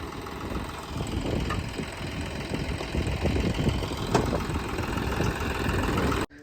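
A 4x4 tractor engine idles close by with a steady low rumble and faint knocking, running evenly for several seconds before cutting off abruptly.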